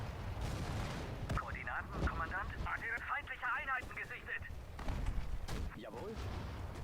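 Gunfire and artillery in the WWII strategy game Sudden Strike 4, Operation Barbarossa, sharp shots and booming blasts going off steadily under radio-style unit voices and a person talking.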